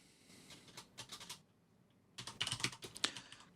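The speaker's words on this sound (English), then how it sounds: "I would type in" Two bursts of quick keystrokes on a computer keyboard, a short flurry near the start and a denser run later, close and fairly quiet with a brief pause between.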